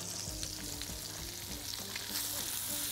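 Shrimp and garlic fry in butter in a pan, giving a soft, continuous sizzle with small pops and crackles, close but fairly quiet, with no talking.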